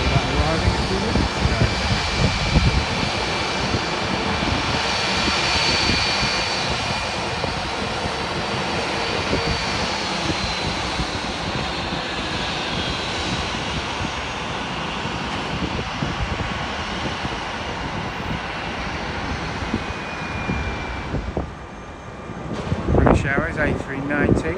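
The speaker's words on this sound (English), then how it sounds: "Airways A319 arriving from Vienna" An Airways A319 airliner arriving at Heathrow and taxiing to the gate gives off a steady, loud jet engine roar that holds throughout, with people talking over it.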